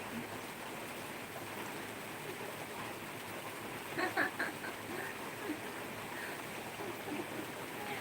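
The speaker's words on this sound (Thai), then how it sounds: "เพราะฝนตกฝนตกแล้ว" Rain falling outdoors makes a steady, soft wash of hiss, with a brief louder rustle of handling partway through and no clear voices over it.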